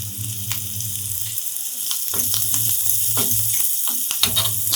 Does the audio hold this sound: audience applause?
no